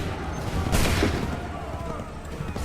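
Musket volley fire in the Assassin's Creed 3 video game, a dense crackling fusillade of many shots merging into one sustained burst, with shouted commands over the gunfire.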